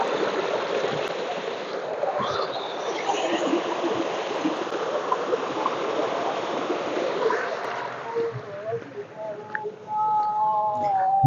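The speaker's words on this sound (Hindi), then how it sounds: "ये पानी चल रहा है, देखें।" Water flowing steadily through a village stream, a broad continuous rush heard close and constant, with faint voices and other sounds rising near the end.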